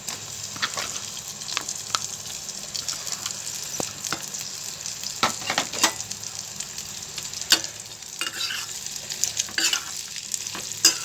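Mutton pieces fry in oil with curry leaves for a pickle, giving a steady bright sizzle punctuated by sharp crackles and spatters as they are stirred, with no talking.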